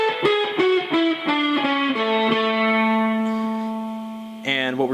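Electric guitar lick from a solo, played alone: a quick run of picked notes settling into a long sustained bent note with effects, then a short burst of higher notes at the end.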